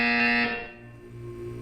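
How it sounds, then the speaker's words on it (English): A game buzzer from Portal 2 sounds as a steady, loud electronic tone for about half a second, then fades into a lower humming drone, alone without talk. "You will hear a buzzer."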